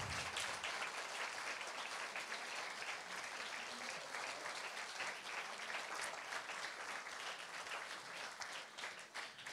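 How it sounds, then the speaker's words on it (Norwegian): A literary event audience gives sustained, dense applause, a continuous wash of many hands clapping that stays loud throughout before tapering slightly at the end, with no speech over it. "Dere må gi dere en applaus til."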